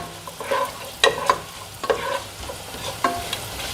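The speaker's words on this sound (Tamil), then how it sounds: "இப்படி சோம்பு சீரகம் எல்லாத்தையும் பொரிய விட்டுடலாங்க." Whole spices, cinnamon, cloves, bay leaf, fennel and cumin, splutter in hot oil in a pan for a spicy potato gravy, with soft crackling and sizzle broken by several sharper pops and stirring scrapes, close and moderate in level.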